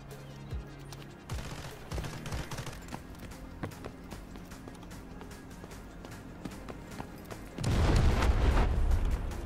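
Gunfire in Delta Force: Hawk Ops from behind the player, scattered distant shots and thuds popping irregularly under running footsteps, with a louder rumbling burst near the end.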